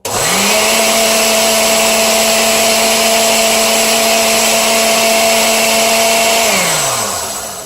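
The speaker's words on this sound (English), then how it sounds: "It's a blender, so it's noisy." A blender spins up and whirs loudly at a steady high speed for several seconds mixing homemade flea-prevention treats for dogs and cats, then winds down.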